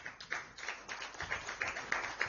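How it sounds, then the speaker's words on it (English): Audience at a youth health education event claps as a guest walks up, a moderately faint, uneven patter of several hands with individual claps audible in loose rhythm. "Please clap until she reaches here."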